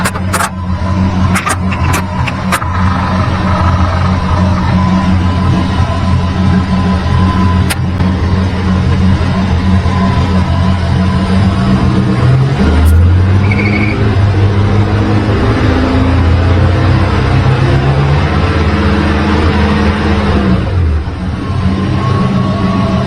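A 1964 Ford Galaxie V8 idling steadily after a misfire repair, a continuous close engine rumble with a brief rev partway through and no talk over it.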